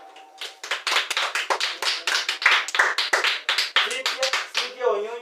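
A classroom of students claps in quick, rhythmic unison for a classmate's announced exam mark. The close, sharp hand claps come in a steady beat, and a voice briefly speaks at the end.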